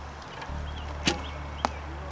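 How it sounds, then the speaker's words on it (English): At a 3D archery course, arrows strike foam animal targets with two short, sharp thuds spaced about half a second apart, distant and fairly soft against a quiet outdoor background. "Good shot, Leaf"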